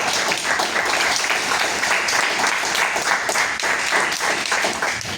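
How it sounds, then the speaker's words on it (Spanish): A conference audience applauds a speaker's introduction at an academic talk on Latin American literature, giving a dense, even round of clapping for about five seconds with no voices over it. "Un aplauso, por favor."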